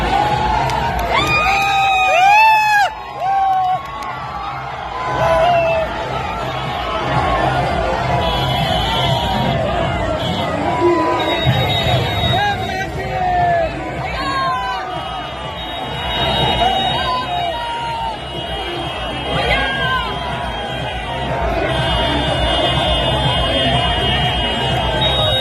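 A large crowd cheers and shouts steadily at a political rally in Araria, Bihar, with whistles, horns and loud overlapping voices throughout.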